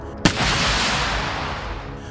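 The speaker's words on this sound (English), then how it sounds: "Then the first Russian artillery rounds arrive." A single heavy Russian artillery shell blast cracks out sharply on a battlefield, then a long, loud rumble rolls on and slowly fades.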